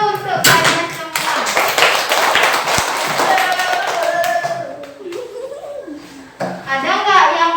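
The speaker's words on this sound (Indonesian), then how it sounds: "Tepuk tangan dulu untuk kalian semua." Fourth-grade children clapping together in a classroom, a burst of many small hands tapping in a quick rhythm, then fading as kids laugh and a teacher's voice and children's voices talk over the room.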